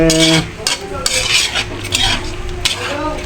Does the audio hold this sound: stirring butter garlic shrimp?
yes